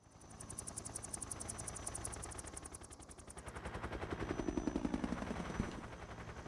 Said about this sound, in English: Flying in unison with a bunch of helicopters is so tricky.